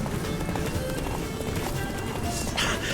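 Hooves of Roach, Geralt's horse, galloping in The Witcher 3 on Death March difficulty, a fast, continuous drumming of hoofbeats close up under dense game ambience, with no speech.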